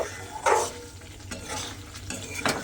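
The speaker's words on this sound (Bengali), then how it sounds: "দিয়ে এটা কিন্তু একটু হালকা হাতে মিশিয়ে নেব।" A spoon scrapes and stirs through okra curry scattered with kasuri methi in a pan, with a few gentle strokes over a soft background sizzle. The sound is close, with no talking.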